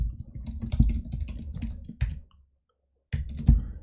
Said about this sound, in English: I don't know why I'm having so much trouble typing